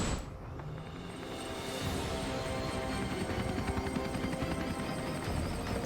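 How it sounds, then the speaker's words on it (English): Steady whirring helicopter rotor drone in the video game Hitman: World of Assassination, with a continuous high whine, fairly loud and constant throughout, with no talking. "You can just say screw it and just leave with the helicopter."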